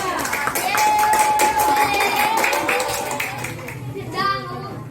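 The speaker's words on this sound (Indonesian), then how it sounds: "Tepuk tangan untuk kelompok 2." A class claps briefly for a student group in a classroom, with scattered applause mixed with children's chatter and voices throughout.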